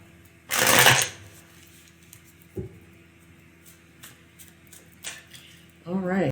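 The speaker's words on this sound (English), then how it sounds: "One more shuffle for Aries." Tarot cards are shuffled in a few quick riffling bursts, one loud near the start and more toward the end, with quiet handling sounds between them.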